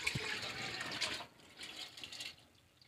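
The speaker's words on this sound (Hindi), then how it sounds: "अब मैं इसमें थोड़ा सा ये पानी डाल दूंगी जिससे ये दाल अच्छी तरह से उबल जाए" Water poured into a pot of soaked mash lentils (urad dal) before boiling, a steady splashing fill that eases off midway and returns more softly, with no talk over it.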